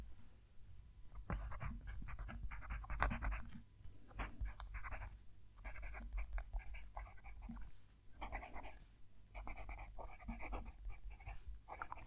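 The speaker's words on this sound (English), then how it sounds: "It feels like there's a bit of sponginess, a bit of bounce when I'm writing." TWSBI Eco fountain pen with a soft nib writing on paper, giving close, quiet scratchy strokes in irregular bursts with short pauses between words.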